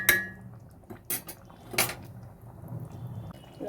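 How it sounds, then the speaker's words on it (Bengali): A lid set onto a pot of nearly boiled, braised potatoes in a home kitchen, giving a few sharp metallic clanks and clinks spaced over a few seconds, close and fairly quiet. "এবার চাপা দিয়ে দিলাম।"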